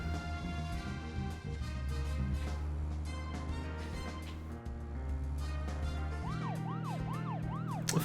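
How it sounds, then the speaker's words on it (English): A police car siren wails in the video game Deadly Premonition, its rising and falling electronic tone cycling rapidly over the steady drone of the engine and game music. "use our sirens make you go faster button"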